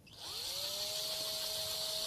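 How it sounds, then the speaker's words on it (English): Power drill boring slowly into a carbonated drink container, a steady whining motor tone that rises as it spins up and then holds evenly, close and alone without talk. "You drill very carefully and slowly."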